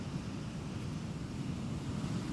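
Rough storm waves rolling onto the shore at Skegness: a constant low, churning rumble of surf mixed with gusting wind buffeting the microphone, steady and without voices.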